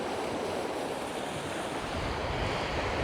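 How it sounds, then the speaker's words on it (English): Rough surf surges onto a long stony beach, a continuous loud broadband roar of breaking water with wind buffeting the microphone throughout, no voices. "Those waves throwing the stones up into quite a bank there."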